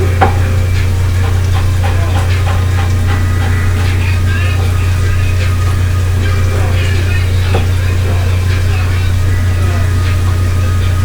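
Radishes frying in a pan, giving a loud, steady sizzle that runs unbroken over a low constant hum, with occasional clicks from stirring.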